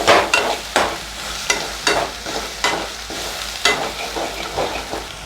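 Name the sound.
sautéing coriander powder and garam masala in a pan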